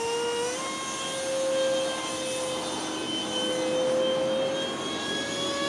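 An RC Eurofighter model jet flies overhead with a steady, loud turbine whine and rushing roar that swells and eases slightly as it passes, with no talk.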